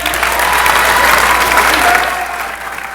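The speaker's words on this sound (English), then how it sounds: "rise for one more round of applause" Loud, sustained audience applause fills a high school spring orchestra concert hall, a thick continuous wash of clapping that holds steady before tapering slightly near the end.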